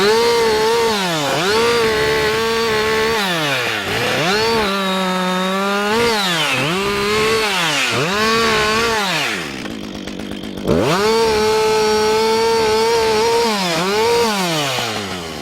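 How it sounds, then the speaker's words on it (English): A chainsaw cuts into a log, close and loud, its engine note swooping up and down repeatedly as the cut bogs and recovers, with one brief drop in the middle before it winds back up. "I'm going to start with a cut on the bottom and read the kerf."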